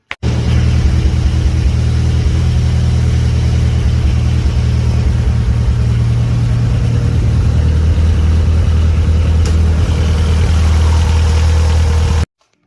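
A Mitsubishi Evo 9 with the 4G63 engine idles steadily and close up, a constant low rumble with a fast ticking from worn lifters running through it, with no talking.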